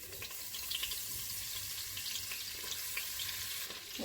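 Butter and flour, with a little oil, sizzle steadily in a pan, a soft, continuous frying hiss close by with faint stirring and no talking.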